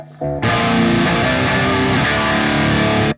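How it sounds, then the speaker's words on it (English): A heavily distorted electric guitar through an EL84 amp rings out in a sustained, thick chord with strong low end, held for a few seconds before cutting off. "That's the sound of an aggressive guitar"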